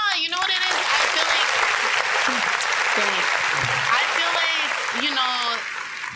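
A studio audience claps and applauds loudly and steadily throughout, while people talk and exclaim over the clapping.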